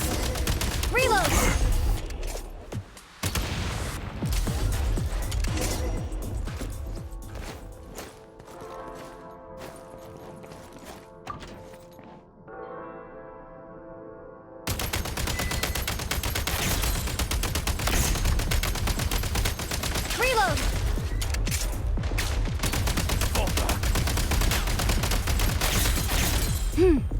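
Gunfire in the Genshin Impact Snezhnaya Archon Quest plays as loud, dense bursts and volleys, dropping away in the middle to a quieter stretch with tonal music before the heavy shooting resumes.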